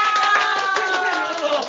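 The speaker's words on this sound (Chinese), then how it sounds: "能不能给我摁个掌声？" A canned applause effect, played on request during a livestream, gives a dense, even wash of crowd clapping through a narrow, phone-like band, with a voice faintly running beneath it.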